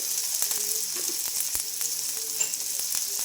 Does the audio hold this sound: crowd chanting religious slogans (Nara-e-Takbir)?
no